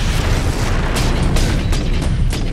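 Rocket explosions in the Space Marine video game: a dense, loud, continuous roar of blasts and rumbling booms, with brief sharper bursts breaking through the wall of noise.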